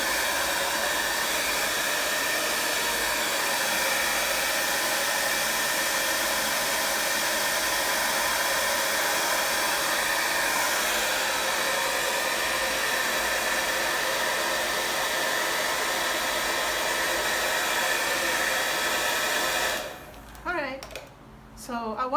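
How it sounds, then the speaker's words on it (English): A hair dryer blows steadily on wet paint for about twenty seconds, a loud continuous whooshing hum, then cuts off near the end as a voice begins speaking. "So I'm gonna dry this again"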